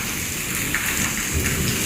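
Heavy first monsoon rain pours down in Rajkot during a thunderstorm, a dense, steady roar of rain hitting surfaces with low thunder rumbling underneath, loud and continuous with no voices.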